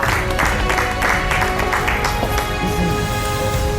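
Studio audience clapping on a Turkish cooking competition show, a continuous crowded patter under music or background tones, steady and moderately loud with no speech.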